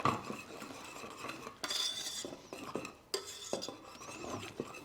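A whisk scrapes and clinks against the side of a pot while cream is stirred into hot broth for keto mushroom soup, in irregular bursts of metallic rattling, close by and with no talking.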